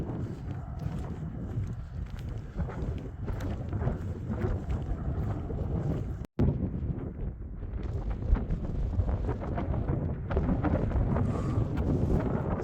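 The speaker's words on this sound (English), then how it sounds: "Sick of the wind already." Steady wind gusting outdoors on a hiking trail, a continuous broadband roar buffeting close to the microphone with a brief dropout midway, no talking.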